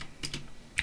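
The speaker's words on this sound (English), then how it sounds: "So you want to type in kill, then type in equals" Brief burst of typing on a computer keyboard, a few quick soft key clicks close by, with no voices.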